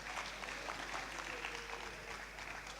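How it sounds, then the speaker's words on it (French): Audience applause at a Moule de Stars 2018 talent show selection round, a steady patter of clapping that stays faint and even throughout. "Alors applaudissez une deuxième fois pour eux."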